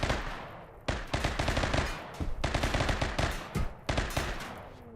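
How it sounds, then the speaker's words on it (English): Bursts of automatic gunfire from a RimWorld raid on a trade ship, several loud rapid volleys separated by brief pauses, with no talk over them. "I hear more gunfire up north."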